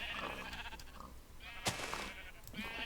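Light gray sheep in the Minecraft video game bleating in a few wavering calls over a steady background hum, with a sharp click midway and no talking.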